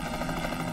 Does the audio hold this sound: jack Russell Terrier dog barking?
no